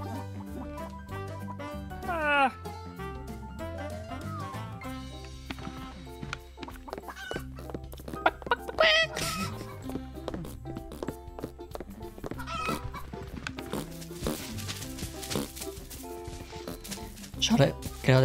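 Chickens cluck repeatedly in a video game over background music, with someone talking throughout the scene.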